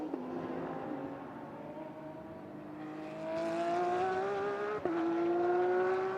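GT World Challenge Asia race cars at Chang circuit, engines roaring steadily as they run close together, pitch climbing through acceleration with a brief gearshift dip, continuous and fairly loud.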